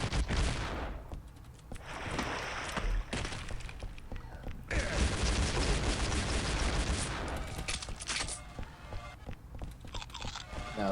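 Explosions and gunfire in a Duke Nukem Forever multiplayer match, loud repeated bursts and sustained blasts in several clusters, dense and chaotic, with brief quieter gaps between.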